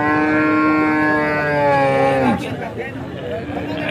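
A cow moos once, long and loud, for about two seconds, then cuts off, leaving faint background noise and murmuring at the Alephata cattle market in Maharashtra.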